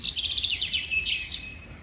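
A bird in a park at Sutter Creek, California, chirps in a quick run of high, bright tweets and trills, fairly close and clear over faint background, with no voices.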